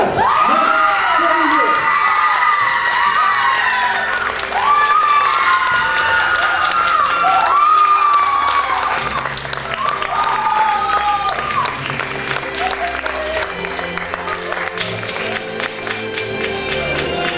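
An audience claps and cheers loudly for the newly crowned Miss Aisne 2020 at the pageant results announcement, with whoops and shouts rising over sustained applause and music underneath, tapering somewhat toward the end.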